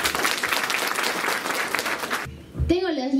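A crowd at a municipal ceremony in Machupicchu gives strong, dense applause for a little over two seconds; it cuts off abruptly and a single voice starts speaking close to the microphone.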